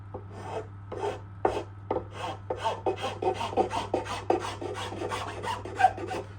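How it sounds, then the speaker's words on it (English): A half round file and rasp shape a wooden violin neck, rhythmic rasping strokes close up, each scrape distinct and repeating quickly over a steady low hum. "I'm using a half round file and rasp"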